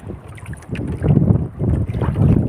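Strong wind at sea buffets the microphone in heavy, surging gusts during a fishing trip on a small boat, a loud, close rumble with no voices.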